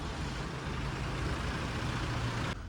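Heavy road traffic with large trucks and buses rumbling close by, a steady dense engine drone and low hum filling the whole stretch without pause, dropping slightly near the end.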